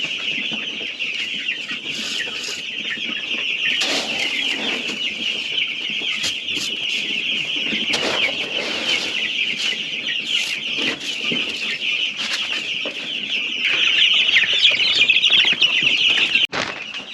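A flock of about a hundred meat chickens clucks while being fed on a homestead, a dense continuous chorus of chatter with occasional wing flaps, growing louder toward the end.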